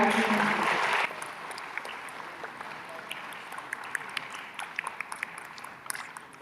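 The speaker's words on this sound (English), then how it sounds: "let's give a big round of applause for the entire team" Audience at the Spacecon space conference applauds the junior satellite team: a dense, loud burst of clapping for about a second, then it thins to scattered, fainter claps over a quiet room.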